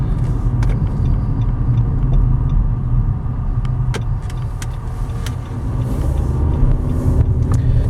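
A silver 2015 Nissan Rogue AWD SUV driving on the road, heard from inside as a steady low road rumble and engine drone with faint clicks and rattles over eight seconds, no talk.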